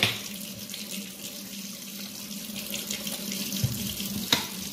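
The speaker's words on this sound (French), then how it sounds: "Là, j'ai plus de produit, j'ai plus de shampoing, donc je rince, j'en remets." A makeup brush is rinsed under a running tap, with a steady stream splashing into a sink and small bumps as the brush is moved, no talking.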